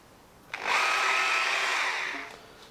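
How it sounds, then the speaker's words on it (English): Power drill boring holes through a metal light bracket during a cafe scrambler motorcycle build, a steady whining buzz that starts abruptly, holds for about a second and a half, then winds down. "just going to drill a couple of holes through here and the"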